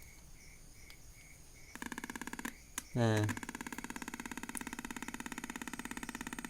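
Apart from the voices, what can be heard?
simple capacitor tester pulsing while testing a fan capacitor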